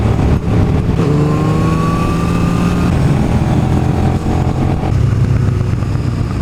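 A motorcycle rider on winding Harz mountain roads accelerates hard, engine tone climbing and then dropping sharply at quick-shifter upshifts, loud and close, with steady wind rush throughout.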